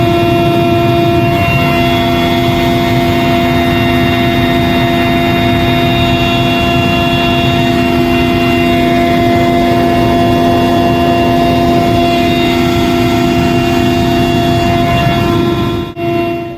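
A helicopter carrying Kerala's chief minister over landslide-hit Wayanad gives a loud, steady engine drone with a high turbine whine that holds unbroken for about sixteen seconds, with no voices.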